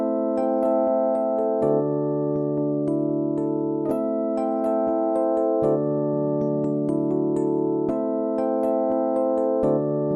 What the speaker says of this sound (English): The sound you heard is the timbre of this TDS module,